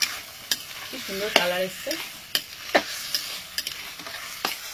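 Potato and pointed gourd are sautéed and stirred in a pan, with a soft sizzle under repeated sharp spatula knocks and scrapes close by, while someone briefly talks.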